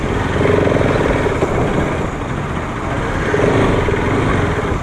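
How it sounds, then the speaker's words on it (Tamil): Road traffic with passing motorcycles and engines, a steady, fairly loud broadband rumble that swells and eases slightly throughout, with no voices. "இங்கே ஒரு டிராஃபிக்காக வேறு இருக்குது."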